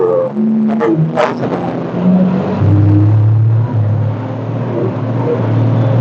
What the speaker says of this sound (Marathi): या पावणे सात वाजता सुद्धा या ठिकाणी किती ट्रॅफिक येतो दिसत आहे तुम्हाला